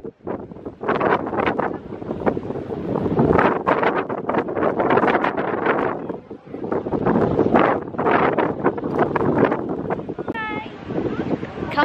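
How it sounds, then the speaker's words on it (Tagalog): Strong gusting wind buffets the microphone near the Shifen Waterfall bridge in Taiwan, making a loud, continuous roar with surging bursts, and a brief voice is heard near the end. "Sobrang hangin."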